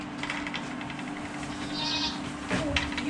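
Goat bleating from a bloated goat, a sustained nasal call rising over steady background hum, close and moderately loud.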